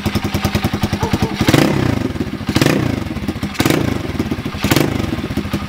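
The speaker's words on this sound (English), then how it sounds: "I will say the throttle is very responsive on this bike." A Coleman 125cc manual mini bike engine idles with a rapid, close, chugging putter, then revs up sharply four times in quick bursts, each falling back to idle between.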